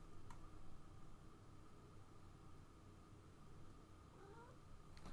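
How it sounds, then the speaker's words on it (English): A cat meows softly over a steady hiss of background noise, a faint rising call near the end, with no talking. "Meow. Hi, kitty."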